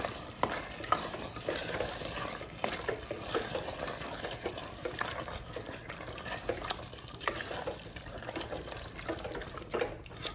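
A spoon stirs a meat and rice mixture in a pan, a close, soft, continuous sizzle with repeated scraping strokes at a steady rhythm.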